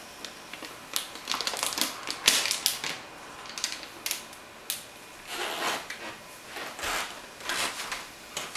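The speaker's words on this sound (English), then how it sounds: "I'm going to take off the plastic wrap." Plastic wrap being pulled off a new 27-inch iMac with ATI graphics: crisp, irregular crinkling and crackling bursts, close and fairly loud, with brief pauses between pulls.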